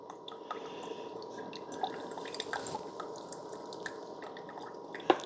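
A Hamilton Beach 42500 coffee maker brewing an 8-ounce hot coffee, with steady trickling and dripping of hot water and a low gurgling hiss throughout, plus a sharper drip or click near the end.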